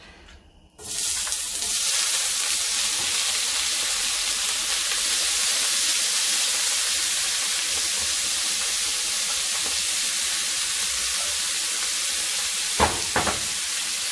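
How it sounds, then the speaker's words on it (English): Shrimp hit hot oil in a pan with a sudden loud sizzle that holds steady and close for the rest of the clip, a bright continuous frying hiss, with a couple of brief clinks near the end. "We have our oil in here, a couple teaspoons, and then we're going to add our shrimp"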